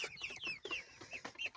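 Young farm chickens, thick-legged birds about 45 days old, cluck in a busy overlapping series of short calls close by, with brief dips between bursts.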